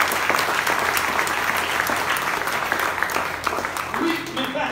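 A church congregation applauding during a French-language worship service, dense steady clapping filling the whole stretch, loud and close, with voices mixed in underneath.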